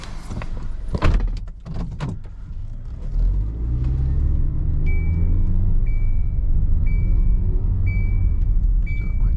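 A car driving through a residential development in Vieques, Puerto Rico, with a steady engine rumble and road noise after a door thud, and a repeating electronic chime sounding at regular intervals.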